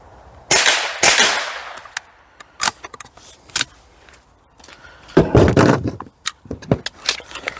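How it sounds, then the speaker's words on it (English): A GSG 5 .22 LR rifle fires Mini-Mag rounds, a handful of sharp, fairly loud cracks at irregular intervals, with smaller metallic clicks and rattles between them and no talking. "I've got my another GSG MP5 or GSG 5. Again, 22 LR, shooting a mini mag out of this."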